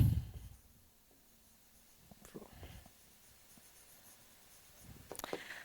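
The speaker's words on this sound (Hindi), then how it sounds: "यहाँ लिख देता हूँ" Marker or chalk writing on a board during a Hindi biology lesson about RNA, heard as a few faint scratchy strokes in a quiet room, with a louder rustle at the start and end.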